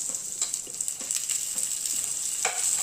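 Onion fries in hot oil in a pan while cooking misal, a close steady sizzle with scattered small pops and crackles throughout.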